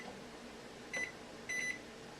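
A kitchen timer being set gives two short beeps, a moment apart, faint against a quiet room hum.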